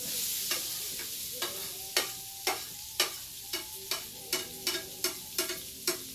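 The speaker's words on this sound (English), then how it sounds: "Back into the pan with our sweet potatoes" Sweet potatoes frying in melted butter in a pan, a steady sizzle broken by about a dozen sharp scraping stirs of a utensil, close and clear with no talk.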